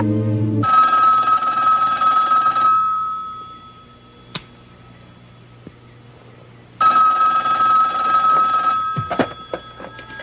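A telephone bell rings loudly and close in two long trilling bursts separated by a few seconds of quiet with faint small clicks, and no voices are heard.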